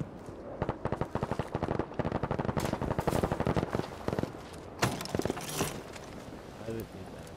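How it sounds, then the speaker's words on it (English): Rapid machine-gun bursts and scattered single shots in Battlefield V Firestorm, sharp repeated cracks in quick rhythm, some close and loud, others thinner and farther off, tapering into sparse shots. "they're shooting and it scares me"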